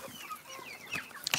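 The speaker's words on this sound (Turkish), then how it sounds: "Bunlar da paçalı tavuklar." Feather-footed chickens cluck in a short run of soft, close calls, with a sharper burst of clucks near the end and no talking.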